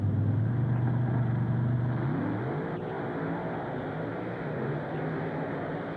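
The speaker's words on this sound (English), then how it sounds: "Dodge Monster Truck Drags here in Canfield, Ohio, Fred Schaefer and Dan Patrick." Dodge monster truck engine at a 1995 drag race in Canfield, Ohio, roaring loud and steady, then rising in pitch as it revs up and pulls away, with continuous heavy engine drone throughout.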